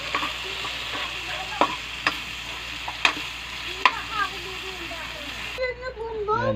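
Onion and anchovies sauté in a pan with a constant close sizzle, broken by several sharp clacks of a utensil against the pan. Someone talks over the frying throughout.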